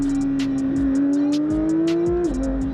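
Porsche 992 GT3 with a titanium exhaust, its engine droning loud and close with a steady, slowly rising tone, a brief dip and recovery, and crackling pops over the top.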